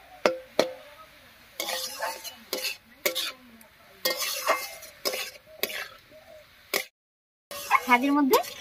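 Radish greens cook over a spice tempering in a pan while a utensil stirs them, making repeated scraping clatters and clinks in uneven bursts with a faint sizzle underneath and a short silent gap near the end.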